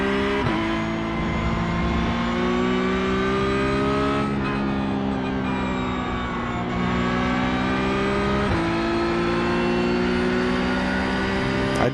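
Porsche Cup race car in the iRacing sim at Catalunya Historic, its engine revving loudly and steadily through the gears, with sharp pitch drops at each upshift, and no talk.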